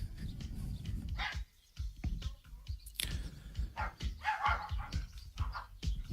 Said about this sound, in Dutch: De hond slaat hoor, dat is altijd een goed teken.